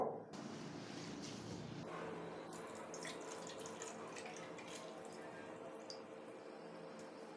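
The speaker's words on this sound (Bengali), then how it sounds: "মুগের ডালেতে আমি জল দিয়ে খুব ভালো করে একবার ধুয়ে নেব" About 300 grams of moong dal is rinsed with water in a bowl for laddus, giving a continuous close splashing and trickling with scattered drips and swishes, fairly quiet throughout, with no one talking.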